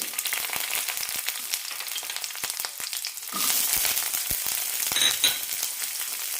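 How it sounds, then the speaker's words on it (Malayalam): Onion and garlic sauté in hot oil for an onion tamarind chutney, a steady crackling sizzle that surges louder midway, with occasional light stirring taps. "നന്നായി വഴറ്റാം സവാളയും വെളുത്തുള്ളിയെല്ലാം ചെറുതായി ചോക്കണം"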